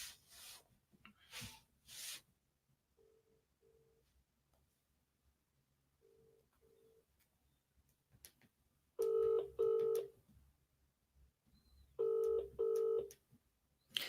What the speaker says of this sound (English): let's see if I can call Richard quickly and get him back online